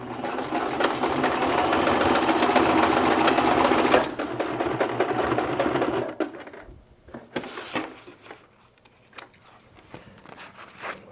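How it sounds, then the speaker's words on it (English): A sewing machine stitches webbing with about 1/4 inch seam allowance, running in a loud, steady, fast whir for several seconds before stopping, followed by scattered light handling clicks and rustles. "We are going to stitch these on the far side here and here using those guides."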